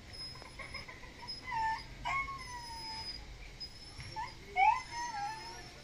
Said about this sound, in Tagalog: Pasensya na po sa ingay ni Xiao, yung aso namin.